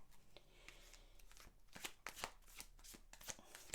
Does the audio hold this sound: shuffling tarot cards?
yes